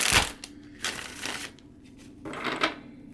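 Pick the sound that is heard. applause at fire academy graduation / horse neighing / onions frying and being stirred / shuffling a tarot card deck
shuffling a tarot card deck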